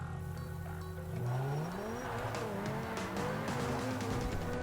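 A supercar in the video game GTA 5 revs hard, its engine pitch climbing through the gears while tires squeal and skid, loud and continuous throughout.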